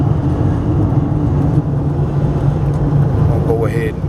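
A 2000 Winnebago Volkswagen Rialta 22HD Class B RV cruising at 70 mph, giving a steady low road and engine rumble from inside the cabin while someone talks over it.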